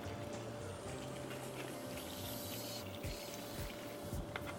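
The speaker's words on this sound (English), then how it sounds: "Right, give this some water." Water poured from a watering container onto a freshly repotted houseplant, a steady trickling and splashing that runs through the whole stretch at low level, with soft bubbling surges near the end.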